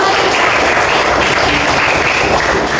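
Classroom applause from a group of students, steady dense clapping filling the room, loud and continuous without pause.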